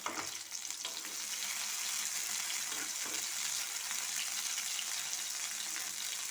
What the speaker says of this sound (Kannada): ಇದು ಒಂದೊಂದು ಕಡೆ 3-3 ನಿಮಿಷ ಫ್ರೈ ಆಗಬೇಕು ಫ್ರೆಂಡ್ಸ್